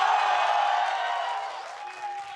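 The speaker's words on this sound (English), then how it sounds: "The crowd is absolutely nuts so far today." Esports crowd at the 2017 NA LCS Spring semifinal between TSM and FlyQuest, a loud, steady wash of cheering and applause that fades slightly toward the end, with no one speaking over it.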